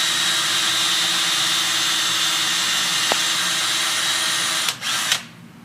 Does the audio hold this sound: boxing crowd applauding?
no